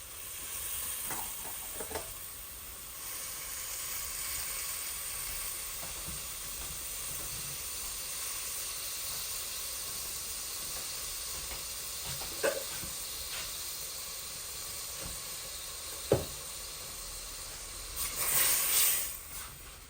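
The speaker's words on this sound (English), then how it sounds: "So like 3 tablespoons of butter. I'm going to let the butter melt." Around three tablespoons of butter melting in a pan over a low flame for creamed mac and cheese, giving a steady soft sizzle and hiss with a few clinks and a louder stir near the end.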